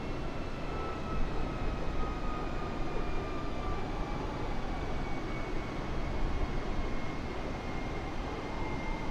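Steady airliner engine roar from a simulated Gatwick to Glasgow flight as the throttle increases, a broad continuous drone with a faint rising whine, no talking.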